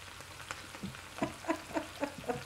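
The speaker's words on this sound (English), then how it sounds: "watch the frying pan." Chicken sausage with peppers and onions sizzles in a frying pan with a string of sharp pops and crackles, fairly quiet overall.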